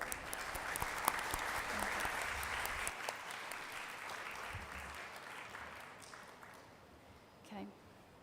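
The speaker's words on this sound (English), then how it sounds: "So please give them a big applause." Audience at an energy-transition panel session applauds the panelists, a dense wash of clapping that holds steady for several seconds and then fades out, with faint talk underneath.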